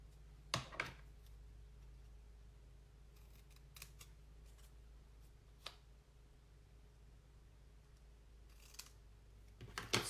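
Scissors snipping vellum paper for a heat-embossed card, a few quiet close cuts, a crisp pair early, scattered lighter snips mid-way and a final cluster at the end, in an otherwise hushed room.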